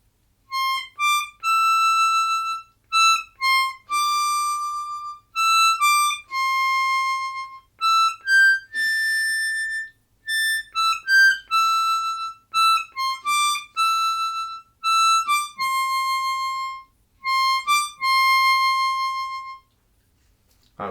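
Harmonica alone playing the chorus of a song, a clear high-register melody of separate breathy notes and short phrases with brief pauses between lines, close and fairly loud.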